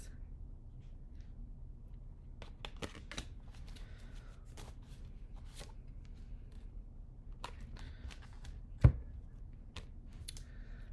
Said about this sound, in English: Cards are kind of falling in all over the place.